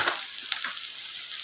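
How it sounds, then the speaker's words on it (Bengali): Cumin and coriander seeds sizzle in hot oil for a lentil curry, a steady bright hiss with small crackles and pops, close and continuous with no talking. "জিরে দিয়ে দিলাম 1/2 চামচ, ধনেও তাই"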